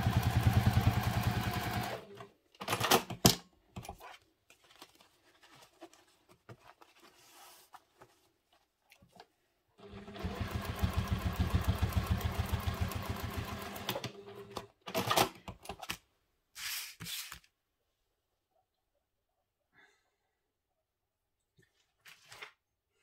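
A sewing machine stitches down the side of a handmade wallet in several mechanical bursts of rapid, close stitching, separated by pauses and quiet handling sounds.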